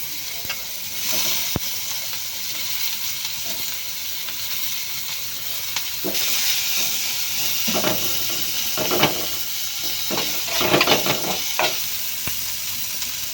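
Onions frying in hot oil alongside fried fish in a pan, a steady close sizzle and hiss with several louder bursts of crackling as the pieces are stirred and turned.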